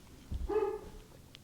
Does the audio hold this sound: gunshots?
no